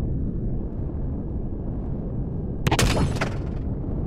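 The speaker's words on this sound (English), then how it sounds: "Let's try the railguns again," Railguns fire in the space combat game Empyrion Galactic Survival, a sharp loud burst of layered blasts and crackling lasting about a second, rising over a steady low ambient rumble.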